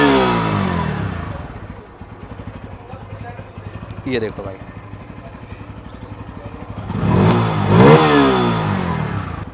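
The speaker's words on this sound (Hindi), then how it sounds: "इंजन साउंड सुनिए आइडियल कंडीशन पर, एग्जॉस्ट नोट आइडियल कंडीशन पर" A Bajaj Pulsar 160cc motorcycle engine idles with an even, rapid thump, then revs in two rising bursts of throttle, loud and close, while someone talks over it.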